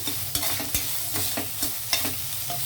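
Ginger garlic paste sizzles in a pan for a palak pulao while a spoon stirs it, giving a soft steady fry with several sharp scraping clicks at irregular intervals and no talking.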